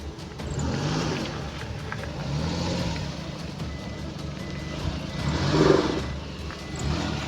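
Van engine running steadily at a rescue scene, a continuous low rumble with a mid swell, faint beeps over it, no talk.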